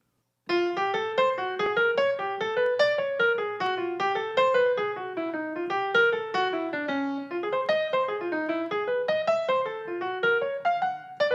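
A solo piano melody built only from cycled patterns, giving an outside jazz sound over the changes; a steady, continuous stream of notes at moderate loudness with no talking.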